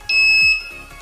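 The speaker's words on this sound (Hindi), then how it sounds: "लेज़र की लाइट को टच करता हूँ तो अलार्म स्टार्ट हो जाता है" Piezo buzzer alarm of a homemade laser security device, a loud, steady high-pitched electronic tone lasting about half a second, close and alone, followed by a fainter ringing tail.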